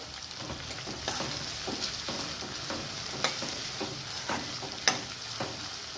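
Finely chopped onion with salt cooks in a pan for a mutton liver curry, a steady soft sizzle with occasional scrapes and stirring clicks from a utensil, close and even throughout with no voices.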